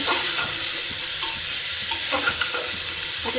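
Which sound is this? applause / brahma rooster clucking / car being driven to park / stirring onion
stirring onion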